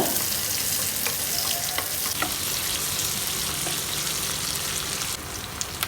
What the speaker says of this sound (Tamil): அதை போட்டுட்டு வெங்காயத்தை நல்லா வதக்கிக்கோங்க.